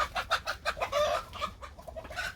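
Chickens cluck busily close by, a golden rooster and hens eating Korean native pumpkin, making quick, overlapping throaty calls with no talking.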